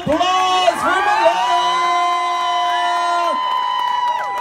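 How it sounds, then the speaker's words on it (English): An outdoor crowd at a pier event cheers and whoops after a young child's singing performance, with sustained shouts and yells filling the air continuously, loud and close. "one more time, big round of applause for Malea."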